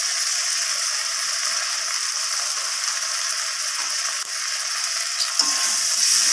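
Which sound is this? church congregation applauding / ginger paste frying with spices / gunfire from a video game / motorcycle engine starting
ginger paste frying with spices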